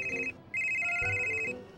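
A telephone rings in two clear electronic bursts separated by a short pause, the second burst longer, loud and close with no talk over it.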